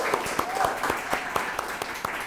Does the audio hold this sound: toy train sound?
no